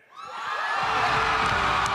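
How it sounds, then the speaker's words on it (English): Fans scream loudly for Harrison Ford as he joins the Captain America: Brave New World cast on the Hall H stage at San Diego Comic-Con, a dense high-pitched crowd roar that swells quickly and holds. "Screams for Harrison Ford as he joined his Captain America Brave New World castmates on the stage of Hall H at San Diego Comic-Con"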